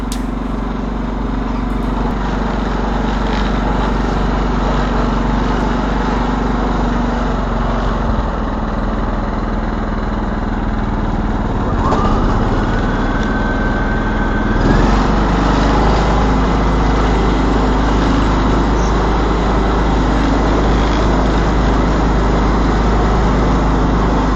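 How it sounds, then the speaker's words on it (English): A 25-year-old John Deere LT155 riding lawn mower with a mulching deck runs steadily, its engine drone loud and close throughout with a brief rising whine partway through, and no talk. "while I'm rolling around on this 25-year-old John Deere"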